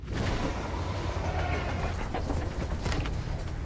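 Runaway Southern Pacific freight train SP 7551 heading east down Cajon Pass in 1989, recreated in the Trainz simulator, gives a steady, loud rolling rumble of wheels on rails with faint clickety-clack throughout.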